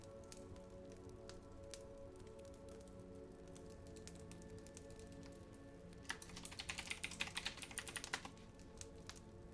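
Fingers type on a computer keyboard for a binaural ASMR stream, making continuous quiet, close-up clicking that turns into a denser, louder flurry of keystrokes near the end. No one speaks.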